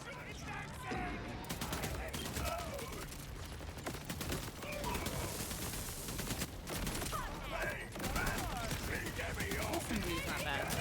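SMG fire in a shooter video game, repeated short bursts of rapid shots over about ten seconds, moderately loud, with a person talking over parts of it.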